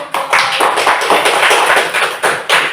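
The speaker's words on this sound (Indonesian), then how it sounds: "Beri aplaus dulu." Children applauding in a classroom, a loud, dense burst of clapping from a group, close and continuous with slight swells, no talk over it.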